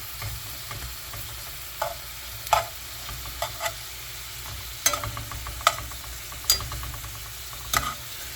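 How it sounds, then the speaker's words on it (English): Shrimp and green onions hiss and bubble in a sizzling New Orleans–style BBQ sauce, a constant close frying sizzle broken by occasional utensil taps and scrapes as they are turned. "I'll just keep them turning in that sauce"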